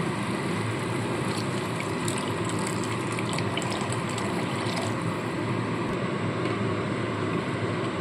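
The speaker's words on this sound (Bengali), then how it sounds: "এবার এখানে আমি দিয়ে দিচ্ছি পরিমাণ মতো জল" Water poured into spiced masala cooking in a pan for a vegetarian cabbage dish, a steady, dense rushing and sizzling wash that holds evenly throughout, close and fairly loud with no voices.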